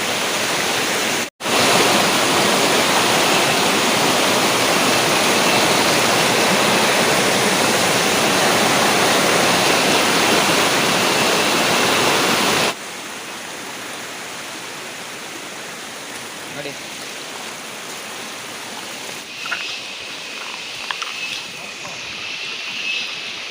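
Monsoon rainwater pours in a loud, steady waterfall-like rush for about half the time, then cuts to a much quieter trickling scene with faint sounds and light activity.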